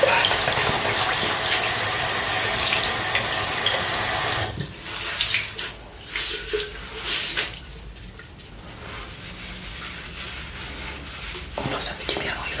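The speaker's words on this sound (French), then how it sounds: "Je couperai peut-être au moment où je vais couler l'eau du robinet." A bathroom tap runs water during a whispered evening facial routine, a loud steady rushing stream for several seconds that then stops, followed by softer splashes and dripping, with close whispering heard in places.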